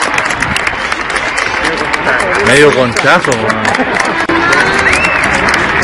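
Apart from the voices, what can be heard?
applause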